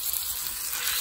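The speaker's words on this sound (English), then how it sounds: "We have hot grease, y'all. Cooking with grease." Food sizzles and crackles in hot grease in a kitchen pan, a steady, close, hissing fry with no voices.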